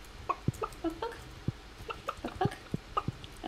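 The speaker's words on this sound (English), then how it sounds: "Good morning, my chickens!" Chickens in the farming game Stardew Valley give a series of short, soft clucks at a steady irregular pace, faint and without talk over them.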